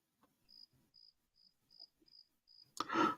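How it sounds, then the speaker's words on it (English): Crickets chirp in six steady, evenly spaced pulses, faint and alone against a quiet background, before a sudden loud burst of broadband noise cuts in at the end. "the crickets are loud here"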